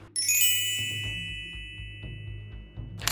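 A single bright notification bell ding rings out clearly and then decays slowly. A low rhythmic thumping runs underneath it, and a short burst of noise comes at the end.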